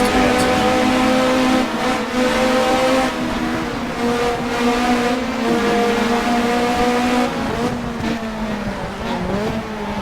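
A Toyota race car in Race 07 roars loudly and continuously, its engine note climbing and dropping through gear changes, with faint tyre noise.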